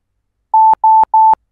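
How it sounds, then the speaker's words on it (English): Three short, identical electronic beeps in quick, even succession from the EUC World app's speed alarm on a phone, loud and clean against silence. "That means every alarm will buzz your phone, play a short beep, and follow up with a quick voice message."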